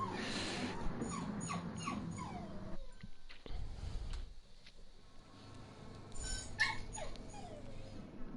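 Excited dog barking and whimpering in the background during a Gran Turismo race, a series of yips and whines in bursts with quiet gaps between them.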